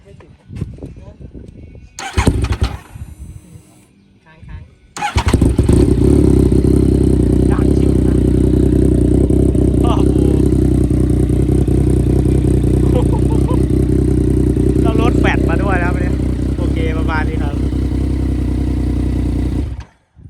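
A second-generation Yamaha MT-09 motorcycle fitted with a ZX-10R exhaust starts with a clattering crank, then settles into a loud, steady rumbling exhaust with brief blips of revving, close by.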